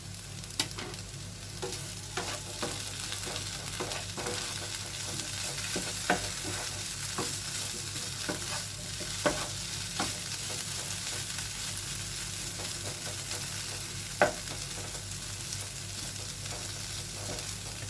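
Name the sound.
potatoes deep frying in oil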